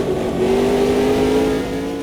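A race car engine in the Automobilista 2 sim drones with a steady rising pitch as another car draws alongside and passes, loud and continuous over the full two seconds with no talking.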